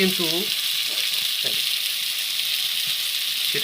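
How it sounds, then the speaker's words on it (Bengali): Fish fry in a pan with a loud, steady broadband sizzle heard up close. A voice is briefly heard near the start. "দেখতে পারতেছেন আমাদের যে মাছ ভাজাটা"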